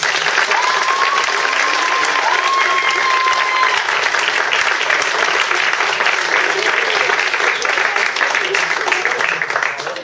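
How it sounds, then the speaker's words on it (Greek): A school event audience gives dense, sustained applause for about ten seconds, loud and steady with a faint whistle early on, fading slightly at the end. "Τους αξίζει όχι ένα μεγάλο χειροκρότημα."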